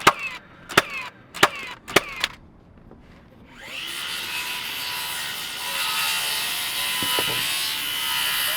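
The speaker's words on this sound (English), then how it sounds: "circular saw from inside, please" A circular saw cuts wood in an old shop under rebuild, after a few sharp knocks; the blade then rises into a loud, steady rasping whine that holds for several seconds.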